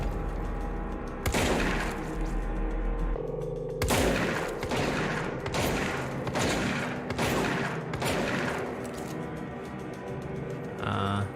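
Bursts of rapid video game gunfire crackle in several volleys over a steady low hum, loud and close, with brief pauses between the rattling salvos.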